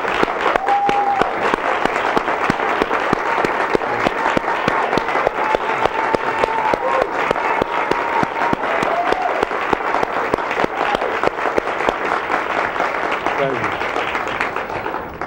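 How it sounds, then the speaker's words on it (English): Sustained applause and hand clapping from a church audience welcoming Reverend Al Sharpton, dense and steady for about fifteen seconds with a faint voice carrying over it before it thins out at the end. "So let's give a hand clap and let's stand and receive this man of God"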